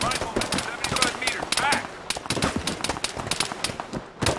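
Arma 3 infantry combat, with dense rapid gunfire, sniper shots and automatic bursts crackling throughout, and voices of players mixed in.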